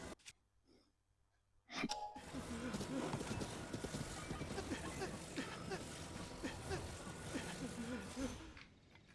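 Horse galloping in Zelda Tears of the Kingdom, a fast rolling patter of hoofbeats that starts abruptly after near silence and runs on under busy game sound, fairly soft, then cuts off at the end.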